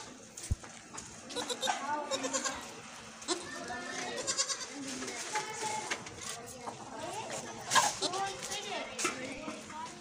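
Baby goats bleat repeatedly in a lively chorus while grazing, high wavering cries overlapping close by with a few people talking.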